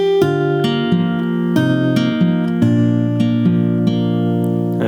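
Fingerstyle acoustic guitar picks the verse pattern of a song over four chord shapes, with close, bright plucked notes and a bouncy, steady rhythm, no voices.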